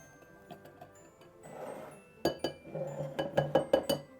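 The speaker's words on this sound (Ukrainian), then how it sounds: "Сюди об'єднуємо сухі інгредієнти: пшеничне борошно і розпушувач і какао. Перемішуємо." A whisk or spoon clinks against a bowl while flour, baking powder and cocoa are stirred together, starting with soft scraping and turning into a quick run of bright taps near the end.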